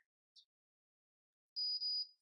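A high-pitched electronic beep from a Wavytalk Power Wave hair waver, a steady tone about half a second long with a brief dip, preceded by a faint tick in near silence.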